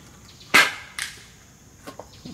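Pocket Shot slingshot firing 5/16 ammo through a chronograph, a sharp snapping crack followed by a softer second snap and a faint later tap, close and loud against quiet outdoor background.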